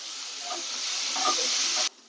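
Finely chopped small onions sauté in a hot pan, giving a steady bright hiss of frying close up, with a few faint stirring touches before the sound cuts off abruptly near the end.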